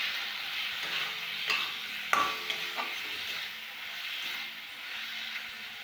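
Prawns and tomato sautéed with masala in a pan, a soft, steady frying hiss with a few sharp spoon clinks and scrapes against the pan, fairly quiet and with no talk.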